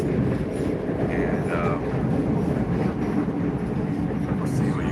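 A passenger train running from Loznica to Belgrade, Serbia, rumbles steadily from inside the carriage, with a constant low roar and faint squeals, and a voice speaks briefly over it.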